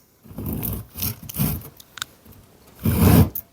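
A handsaw makes a few short rasping back strokes across beadboard to start a cut, close and fairly loud, with uneven gaps between them and one longer, stronger stroke near the end.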